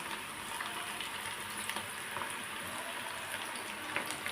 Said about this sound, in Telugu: ఆయిల్ అనేది హీట్ ఎక్కిందండి ఇప్పుడు మనం పకోడీలాగా వేసుకోవటమే ఎంతో టేస్టీగా క్రిస్పీ క్రిస్పీగా ఉంటాయండి